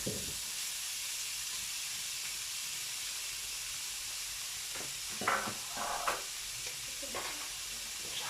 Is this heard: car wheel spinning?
no